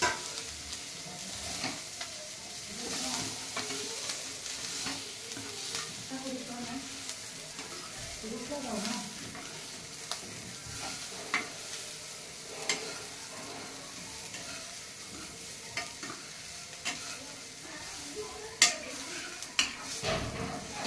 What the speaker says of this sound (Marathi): परतून घ्यायचंय थोडंसं। मॅगी भाजल्या जाते।